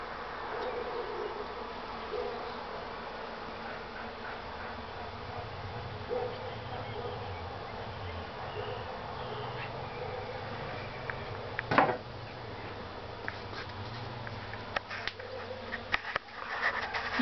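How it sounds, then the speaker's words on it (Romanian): Honey bees buzz steadily while foraging among flowers outdoors, a continuous close droning hum with occasional louder passes of individual insects and no talking. "Albinuțele lucrează de zor."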